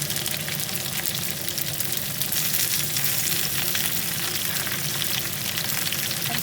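Spring onion frying with liver and onions in a pan, a steady close sizzle with occasional stirring, continuous and moderately loud, no speech.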